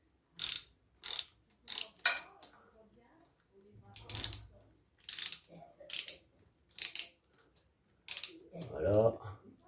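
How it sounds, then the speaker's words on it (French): Hand wrench ratcheting on a bolt of a 125 dirt bike during an oil change, a series of short, sharp mechanical clicks in bursts near the mic, ending with a low voice. "On va le faire à la clé parce que c'était un peu long tout à l'heure."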